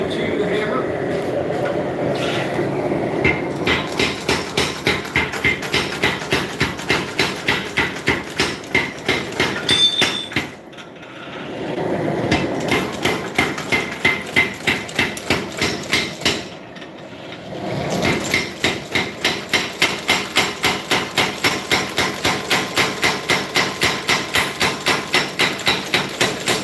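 Rhythmic, loud hammer blows forging steel for a Bowie knife guard, struck in long steady runs with two short pauses, close and ringing, with occasional talk in between.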